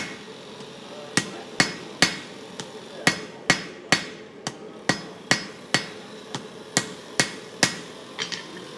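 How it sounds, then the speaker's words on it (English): Sharp metallic power hammer blows strike steel being forged one after another at an even, fairly quick pace, each ringing briefly, close by and loud, with no voices. "I'll probably jump on the power hammer again"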